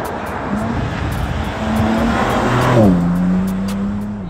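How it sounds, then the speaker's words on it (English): BMW G82 M4 Competition, twin-turbo, engine droning loud and steady while driving, its pitch rising and then falling through a gear change, with faint music and a voice in the background. "Today we're going to go for the first drive in a BMW G82 M4 competition."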